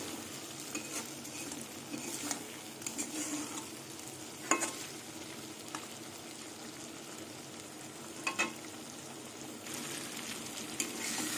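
Spice paste for a pakal eel curry fries in oil while being stirred, a steady soft sizzle with scraping spoon strokes at intervals, heard alone and at close range.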